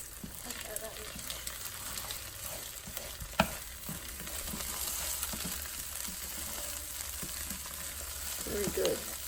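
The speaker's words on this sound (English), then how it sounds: "we're going to put a tablespoon of oil back in the pan and 3 eggs" Three eggs fry in a tablespoon of oil in a pan, giving a quiet continuous sizzle with occasional stirring scrapes and one sharp knock, fairly faint and steady throughout.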